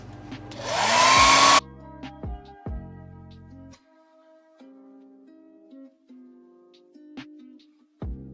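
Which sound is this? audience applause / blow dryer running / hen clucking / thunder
blow dryer running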